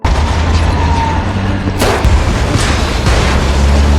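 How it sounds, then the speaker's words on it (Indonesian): A truck crashes into a house and explodes in The Last of Us, a loud, sustained roaring rumble broken by a sharp blast partway through, with heavy low-end throughout. "Truk menabrak sebuah rumah dan meledak."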